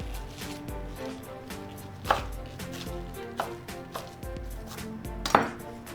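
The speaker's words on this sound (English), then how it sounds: "let's get some of this fresh basil. I'm going to rough chop and add that into the sauce as well" A knife rough-chops fresh basil on a cutting board in steady, close, fairly loud rhythmic strokes, with a few sharper knocks standing out over a low background hum.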